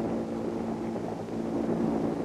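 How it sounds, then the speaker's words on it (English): An RAF helicopter approaches the lifeboat RNLB Robert from astern during an exercise at sea. Its steady, dense rotor and engine roar carries over wind buffeting, with no speech. "The helicopter approaches steadily from astern."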